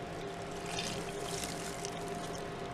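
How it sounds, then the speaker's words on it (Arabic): Melted butter and milk mixture poured onto flour for croissant dough, a steady soft liquid trickle running continuously at moderate level with no talk over it. "بعد كده هنضيف خليط الزبده والحليب بعد ما يتهوى معانا،"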